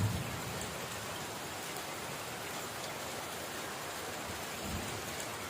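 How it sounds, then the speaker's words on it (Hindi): Heavy rain pouring down in Nasibpur, Kolkata, a steady dense roar of water hitting surfaces that holds constant throughout, loud and close, with no voices. "ये देखिए बारिश अभी तेजी से बारिश हो रहा है,"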